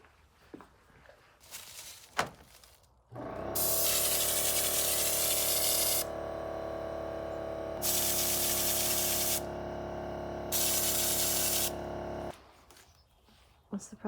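Paint spray gun spraying Raptor liner in a van conversion, starting with a sudden loud hiss that holds for about nine seconds with brief dips in pitch, between quieter handling clatter before and after.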